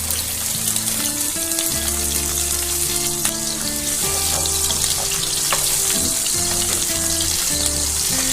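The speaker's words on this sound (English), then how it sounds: "We're gonna add some diced onions." Diced onions frying in a pan in a van kitchen, a steady close sizzle and crackle with faint clatter, no talking, alongside a separate tonal hum.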